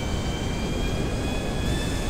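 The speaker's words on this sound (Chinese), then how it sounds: "这台飞机不要买，非常不好开，而且又大台" The Volatol, a huge heavy military aircraft in GTA 5 Online, drones with a loud, steady jet engine roar throughout, with no other sounds over it.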